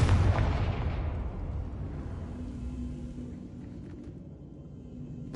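A Confringo fire spell in Hogwarts Legacy bursts with a loud booming blast at the start, then rumbles and decays slowly into a low lingering tail.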